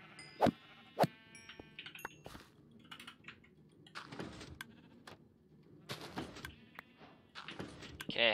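Sheep in the video game Minecraft bleat in short, sharp calls, two loud ones close together near the start and more scattered through the rest. Light buzzing and clicks sit between the bleats.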